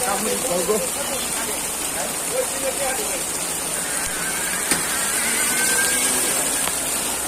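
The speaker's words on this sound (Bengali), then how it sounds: "অতিরিক্ত বৃষ্টির কারণে দেখেন গাজীপুরে আজকে বন্যা হয়ে গেছে" Steady hiss of heavy rain falls throughout on flooded Gazipur roads, with a faint voice and a brief knock partway through.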